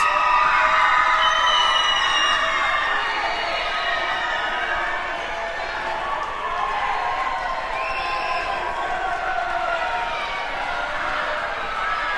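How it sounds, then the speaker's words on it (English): Crowd at a high-school basketball quarterfinal between Colonial and Suburban applauding and cheering, a steady dense roar of clapping and shouting that stays loud throughout, with no single voice standing out. "obviously you're going to hear the rouse of applause and cheers"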